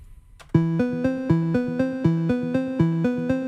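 A bright, buzzy square-wave synth arpeggio in Ableton Live repeats a steady, fast note pattern, loud and upfront after a brief quiet lead-in.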